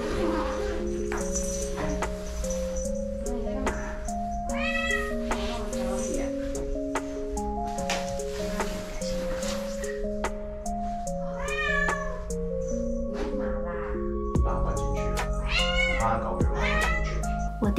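Cats at a pet hotel in Vancouver give several drawn-out meows, spread through the clip and heard over steady background music.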